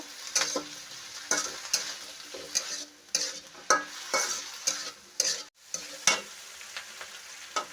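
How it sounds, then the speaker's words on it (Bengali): Small mola fish coated in salt, turmeric, chili and cumin powder fry in a pan. A steady close sizzle runs under repeated rhythmic scrapes and clinks of a spatula stirring. "ভাজা ভাজা করে নেব"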